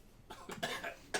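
A few short coughs in close succession, fairly faint and close, with brief pauses between them.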